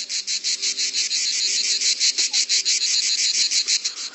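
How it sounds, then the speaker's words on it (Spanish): A male cicada sings close by, a loud, high, buzzing drone pulsing in rapid, even beats throughout. "emite un sonido conocido como canto de la cigarra"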